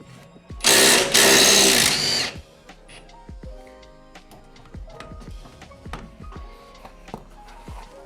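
An impact wrench loosens hub bolts on an NB Mazda MX-5 Miata during a differential job, one loud sustained burst followed by sharp metallic clinks and taps of tools and parts nearby.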